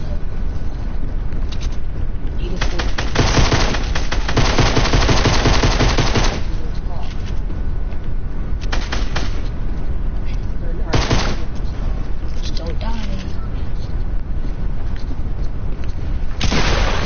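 Gunfire in the Fortnite video game sounds in loud bursts of rapid automatic shots, with dense volleys spread across the clip between quieter stretches, while players talk over the action.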